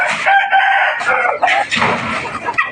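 A fighting cock gives one loud, close crow on a farm, a drawn-out call lasting a couple of seconds.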